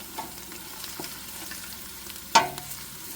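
Onions for a vegetable soup, lightly browned and turning clear, sizzle quietly in a pot, with one sharp clack of a utensil stirring partway through.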